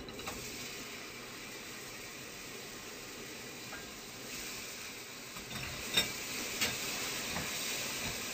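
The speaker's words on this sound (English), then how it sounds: "I'm just going to shake the marinade from the salmon and put it in the pan" Marinated salmon for teriyaki sizzles skin side down in a hot pan with a steady, close frying hiss and a few sharper spits and crackles toward the end.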